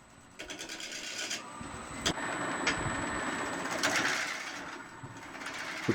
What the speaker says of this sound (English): the chisel slowly moving along the revolving wood, dust and splintering wood particles flying in all directions